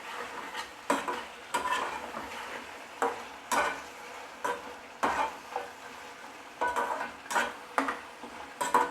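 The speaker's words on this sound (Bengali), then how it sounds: "সেটা দিয়ে এটা আবারও ভালোভাবে চিকেনের সঙ্গে মিক্স করে নেব" Chicken with ground cashew paste being stirred in a frying pan, a spatula scraping and clinking against the metal in a steady, repeated rhythm over a soft sizzle, close and clear with no talking.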